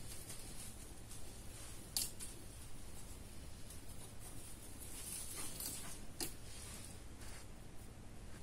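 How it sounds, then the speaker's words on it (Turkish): Scissors cut a three-chip LED strip at its marked cut point, giving a few faint, sharp snips against a steady background hiss. "Evet buradan makas işaretinin olduğu yerden kesiyoruz"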